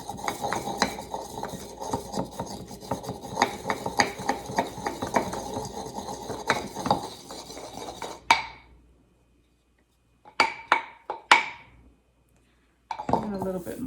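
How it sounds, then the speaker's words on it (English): Dried homegrown oregano being ground with a mortar and pestle, a close run of scraping, clinking strokes that stops abruptly, then a few sharper knocks and taps after a pause. "I think I'm going to use the mortar and pestle"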